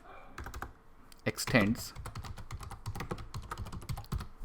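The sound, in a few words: typing code on a computer keyboard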